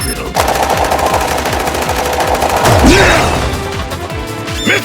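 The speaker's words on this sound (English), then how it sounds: "Missiles!" Missiles firing in the opening of the video game Sonic Unleashed, a loud continuous barrage of rapid blasts and whooshes with a descending streak midway, dense and close throughout.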